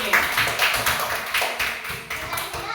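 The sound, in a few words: classroom applause for group 2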